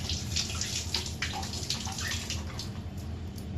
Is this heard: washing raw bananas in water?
yes